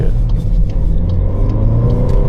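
A manual Volkswagen Golf R engine drones loud and close while drifting, a steady throaty rumble with road noise that holds without a break.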